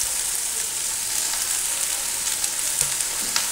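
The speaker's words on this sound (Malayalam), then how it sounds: "നമ്മൾ ചെറുതായി അരിഞ്ഞു വെച്ചിരിക്കുന്ന സവോള ഇതിനകത്തേക്കിടാം." Chopped onions hit a hot pan for a Kerala-style egg roast, giving a loud, steady frying sizzle with a few soft stirring knocks and no voices.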